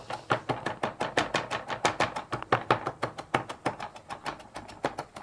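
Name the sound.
rough chopping of food with a knife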